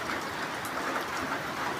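Steady rain pours down over a village at night, a dense even hiss with no pauses and no voices.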